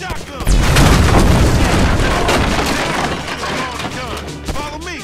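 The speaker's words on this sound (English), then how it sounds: "Shoot that gas can." A gas can blows up in a Grand Theft Auto video game with a loud booming explosion and crackling debris, followed by a fading rumble with voices in the background.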